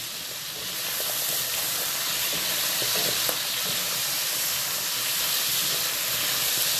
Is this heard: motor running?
no